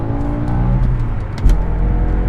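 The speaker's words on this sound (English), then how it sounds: "Dude, it just keeps revving." A manual BMW M5 E60 with its V10 revs hard and keeps climbing under full power, a loud, dense, continuous engine roar close by with no talk over it.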